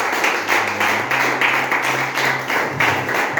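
A church congregation claps for Jesus, a loud, close burst of steady clapping from many hands that carries on without letup, with a faint tone sustained underneath.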